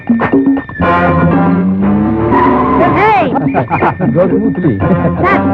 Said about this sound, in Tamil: ஒவ்வொரு தடவை கார்ல ஏறி எஸ்கேப் ஆயிட்டு இருக்க